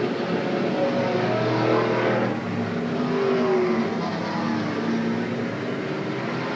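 Race cars roar around Willamette Speedway in 1987 under green-flag racing, a continuous distant engine drone that swells and fades slightly as cars pass, with no clear speech.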